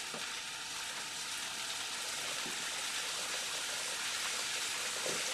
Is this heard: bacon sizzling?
yes